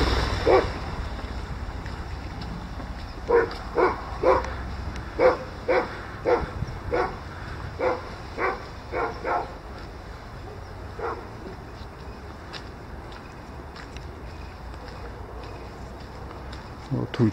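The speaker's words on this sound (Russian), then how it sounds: "Ой, везде собаки, собаки" Dogs bark on a street in Maikuduk in autumn, a run of a dozen or so evenly spaced sharp barks at moderate distance over steady background noise, then a few isolated barks later.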